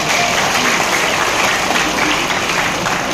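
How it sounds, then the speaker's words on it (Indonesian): A campaign rally crowd in Sragen breaks into loud, continuous applause for the Nasdem party, dense and unbroken from start to finish. "sekali lagi tepuk tangan untuk Partai Nasdem"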